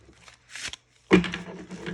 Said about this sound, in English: You can riffle shuffle it, but it's bigger and it's kind of difficult to do